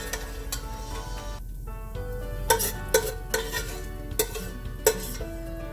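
Mushrooms and peppers cooking in leftover sausage fat and oil in a pan, with a steady sizzle broken by sharp scrapes and knocks of a utensil stirring against the pan.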